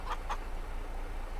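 Chickens in a farm flock in Farming Simulator 22 give two quick, close clucks near the start, then only a steady low background hum.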